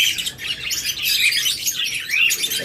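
A matched pair of cage birds offered for sale chirp and tweet steadily at close range, a bright continuous chatter with occasional squawks and no voices.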